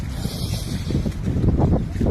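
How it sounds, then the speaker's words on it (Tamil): Gusty storm wind sweeps across open, waterlogged farm fields, buffeting the microphone with a low, uneven rumble that swells and fades in pulses, with no voices. "மறுபடியும் புயல் காற்று மேகம்லாம் கிழக்கு நோக்கி வந்துட்டுருக்கு"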